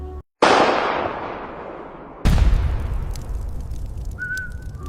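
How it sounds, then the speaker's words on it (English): Sniper rifle shot from a World War II sniper duel in a 3D documentary, loud and close, a sharp blast after a brief silence, decaying into a long rumbling tail, then a second heavy boom with a drawn-out echo. "She pulls the trigger."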